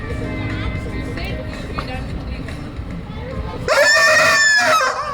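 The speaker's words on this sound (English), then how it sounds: "There's a chicken in the box." A rooster in a box crows once loudly near the end, after a stretch of people talking over a busy, crowded background.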